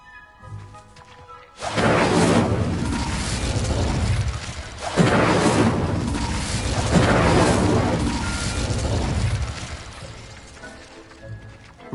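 The Incendio fire spell cast in Hogwarts Legacy bursts out as three loud, roaring whooshes of flame, each swelling and fading into the next, close and dominant after a quiet opening.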